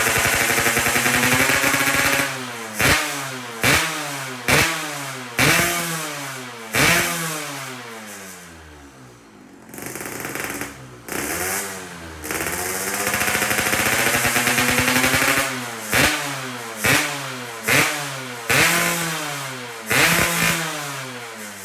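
A fully overhauled Yamaha RX-King two-stroke motorcycle engine revs hard in repeated sharp blips, each rising and falling quickly, with a brief lull before the rapid throttle bursts resume, loud and close with no talk.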